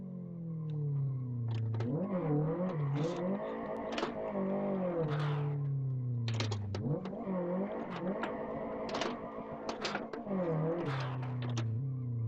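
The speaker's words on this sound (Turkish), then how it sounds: "Efsane bir egzoz patlatma sesi var ya." A Tofaş car engine revs up and down again and again, loud and close, with sharp exhaust pops and crackles between the rising and falling pulls. No one talks over it.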